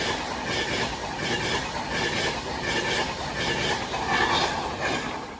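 An Avanti West Coast passenger train rumbles past steadily at close range at Northampton, with rhythmic clatter of wheels over rail joints and broadband roar throughout.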